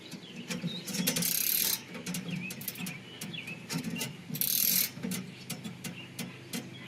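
Ratchet clicking in repeated bursts while tightening a screw-in ground anchor outdoors, with louder, harsher stretches of rapid pawl ticks alternating with quieter cranking and faint birdsong in the background.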